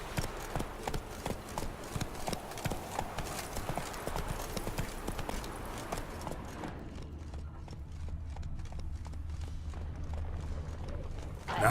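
Roach, the horse in The Witcher, gallops with fast, steady clip-clop hoofbeats up close, slowing and softening in the last few seconds over a low game ambience.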